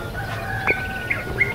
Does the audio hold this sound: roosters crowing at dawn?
yes